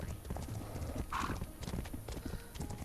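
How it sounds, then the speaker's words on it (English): Hooves clop in a steady gait from a tamed wild horse in the video game Legend of Khiimori, with a brief neigh near the middle and a faint voice in the background. "Our first tamed wild horse."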